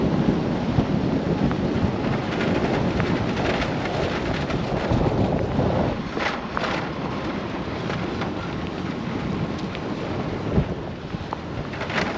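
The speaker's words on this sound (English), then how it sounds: "Especially with all this rain." Steady rain with rumbles of thunder across a dry lake bed and ghost town in southern Nevada, a dense continuous wash with wind buffeting the microphone, loud and unbroken throughout.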